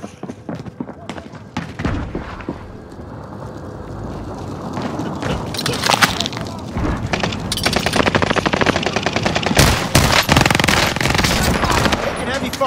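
Machine gun fire in the video game Call of Duty Modern Warfare, sustained rapid automatic bursts building in intensity, with heavy thuds and explosions mixed in and voices talking over the combat.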